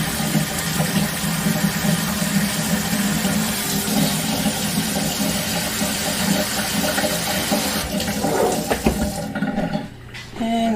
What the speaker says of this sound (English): I'm going to add some water to that.